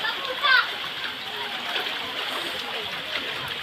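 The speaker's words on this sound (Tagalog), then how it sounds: "Kaya patuloy pa rin ang ulan, no?" Rain falls steadily during a typhoon with soft splashing in flood water, a brief louder splash early on, and faint voices in the background.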